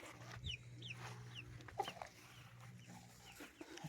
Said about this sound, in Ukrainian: Я прийшла випустити клочку з курчатками.